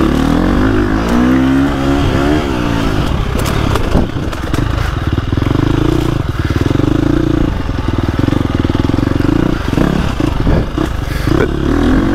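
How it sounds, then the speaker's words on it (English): A 2025 KTM 350XCF dirt bike engine chugs in second gear on a woods trail, a loud continuous rumble with uneven throttle surges and clatter. "This is all just chugging in second."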